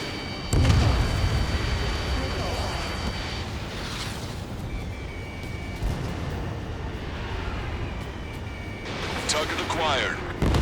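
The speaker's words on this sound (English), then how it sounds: "The artillery fire sent a number on my hearing!" Heavy artillery fire in Ace Combat 7, a sustained low rumbling barrage with scattered booms and a few louder blasts near the end, under radio voices and cockpit alert tones.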